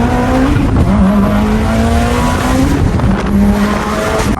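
A 784 hp Mitsubishi Evo X with a 64mm turbo is driven hard, its engine revving loud and close as the pitch climbs and drops through the gears, with faint tire squeal and no voices.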